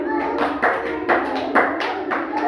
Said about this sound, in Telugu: క్లాప్స్ కొట్టాలి గుండుకు.